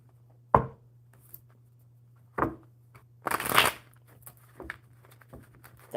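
Tarot cards being shuffled in a few separate riffles and slaps, close and fairly quiet, with a faint steady hum behind them.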